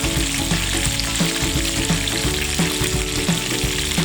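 Steady, crackling sizzle of chicken frying in hot oil, loud and close, with soft periodic clinks underneath; no talking.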